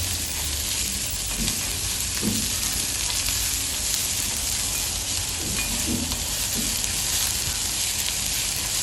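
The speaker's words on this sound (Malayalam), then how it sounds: "വെല്ലുള്ളിയും നന്നായിട്ട് ബ്രൗൺ ആവുന്നവരെ അത് സോട്ട് ചെയ്യാം" Crushed garlic sautés to brown in an iron kadai, giving a continuous close sizzle with a few soft scrapes and taps from stirring.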